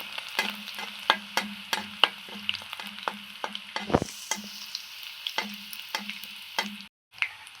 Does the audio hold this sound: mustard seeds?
yes